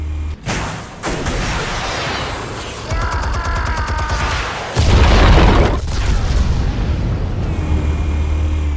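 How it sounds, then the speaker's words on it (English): Explosives detonate in Batman: The Telltale Series, with loud booming blasts, a rapid burst of cracking fire and a sustained deep rumble that swells heavily midway and continues to the end. "Explosives armed. Fire when ready."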